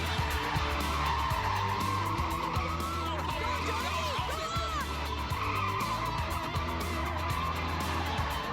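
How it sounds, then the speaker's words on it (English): A BMW F32 435i drifting, its tyres squealing in long wavering shrieks over a loud, droning engine that rises and falls for several seconds. "The tyres were smoking, he got some squeals going."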